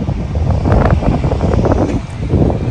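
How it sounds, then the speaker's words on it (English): Strong gusts of wind buffet the microphone, a loud rumbling roar with rustling in the background and no voices. "It is extremely cold and windy today."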